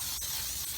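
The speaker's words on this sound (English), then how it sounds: "I'm using Baker's Joy cooking spray, and what I'm doing is I'm going ahead and I am lightly coating this." Baker's Joy cooking spray hisses briefly and softly from its can as a thin coat goes onto a pan. It is a short, steady spray with nothing else heard.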